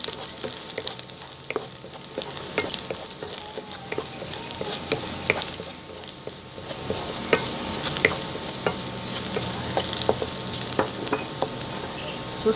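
Garlic sautés in a hot pan, sizzling steadily while a utensil stirs and scrapes with frequent sharp clicks, close and continuous without talk.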